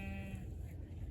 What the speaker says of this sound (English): So yay, sheep!